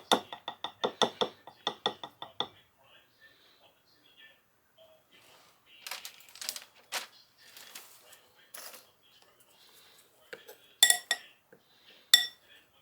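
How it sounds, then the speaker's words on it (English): A fork taps and clinks against a dish while shaking excess caramel coating off apple pieces: a quick rhythmic burst of bright metallic clinks up close, then scattered softer scrapes and a few sharper clinks later. "Use your fork to shake off the excess."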